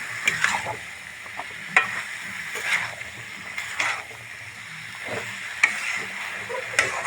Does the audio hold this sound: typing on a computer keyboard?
no